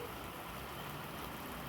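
Hail falling in Kingman, a dense steady patter of ice pellets striking the ground and nearby surfaces, faint but continuous with no voices.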